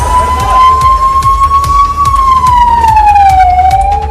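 A fire engine siren wails loud and close during a safety drill, its long rising and falling tone sweeping slowly over a rumbling engine, with no talk.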